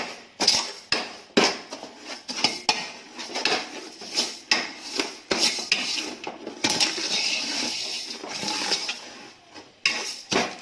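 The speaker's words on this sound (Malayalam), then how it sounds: "ഇനി നല്ലോണം ഒന്ന് ഇളക്കി കൊടുക്കാം." A spoon stirs sugar as it melts in a pan for nannari sharbat, giving irregular scraping and clinking knocks against the metal in uneven bursts, close and moderately loud, with no voices.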